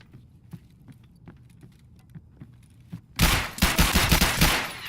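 Rapid automatic gunfire in the shooter game Escape From Tarkov bursts in loudly after a few seconds of quiet footsteps and faint clicks, a dense rattling volley that keeps going to the end.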